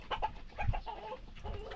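A gamecock rooster of fighting breed clucks in low, short bursts close by on a farm, soft throaty notes spread unevenly over a faint outdoor background.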